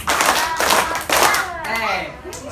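Children clapping out a three-beat rhythm in a classroom game, several bursts of hand claps mixed with children's voices nearby, fairly loud.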